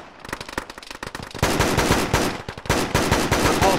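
Gunfire in a military video game, ShackTac, with sparse shots at first giving way to loud, dense bursts of automatic fire and rapid cracking volleys, close and continuous, with no voices.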